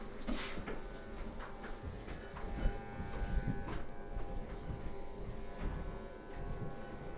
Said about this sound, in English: I'm just using a little bit of soap to shave with.